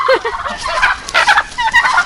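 Several young turkeys gobble loudly and close by, overlapping bursts of rapid, rattling calls filling the whole stretch.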